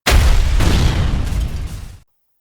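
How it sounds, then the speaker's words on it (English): A loud, close explosion booms through a wizard's castle, a single deep blast with rumbling low-end that holds for about two seconds before cutting off abruptly. "until he heard and felt an explosion."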